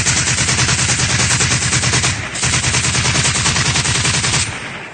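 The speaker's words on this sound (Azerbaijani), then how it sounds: "əsgərlərimiz düşmən mövqelərinə dəqiq snayper atışları edərək onları geri oturdub və irəliləyib" Rapid automatic gunfire rattles in a dense, loud stream at soldiers' positions facing separatists, with one brief pause before a final burst cuts off.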